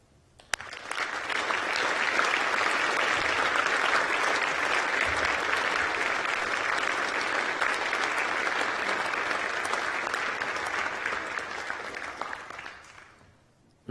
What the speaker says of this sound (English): let me call on you, our graduates, to applaud our outstanding staff